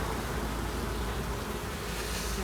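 A steady, dense buzzing of many honeybees at an open hive, close and continuous, with no talking.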